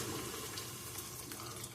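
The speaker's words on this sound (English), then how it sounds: "Add a little bit more of water, just a little bit." Water runs steadily from a tap into a cooking pot during home cooking, a continuous close hiss and splash with no talking.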